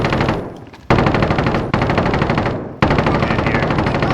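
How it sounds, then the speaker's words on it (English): Video game gunfire in a construction-site map, rendered as loud, close automatic bursts of rapid rhythmic shots in three to four strings with brief gaps between them. "Same spot Alex is shooting."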